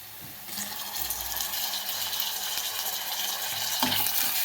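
Tomatoes added to softened onions frying in a pan for a sprouted-legume mixed vegetable curry, giving a steady broadband sizzle that swells after the first half-second and holds loud and continuous, with no talking.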